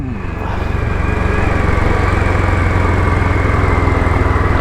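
A Royal Enfield Bullet 500 motorcycle engine runs steadily while riding along a coastal road, a close, continuous low throbbing drone that builds slightly in loudness and then holds even throughout.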